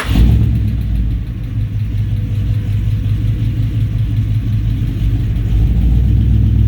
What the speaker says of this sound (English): it started to develop a little tick at idle on this driver's